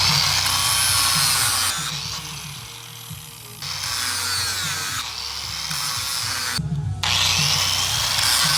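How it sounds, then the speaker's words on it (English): Loud, close angle grinder grinding down welds on a 1967 Mustang body, a continuous high whine that dips and changes pitch as pressure on the metal shifts, with a brief break near the end and no talk. "Now I'm gonna grind down these ones right here."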